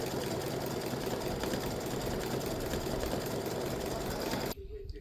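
An embroidery machine test stitches a patriotic ice cream tic-tac-toe board, giving off a steady, even mechanical whirring for several seconds before it abruptly stops.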